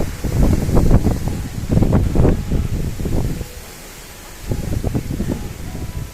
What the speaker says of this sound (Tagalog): Lakas ng hangin, no?